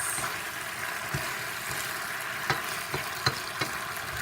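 Pear and strawberry jam simmering in a covered pan on low heat, a steady soft sizzling bubble with occasional small pops and ticks, heard alone without talk.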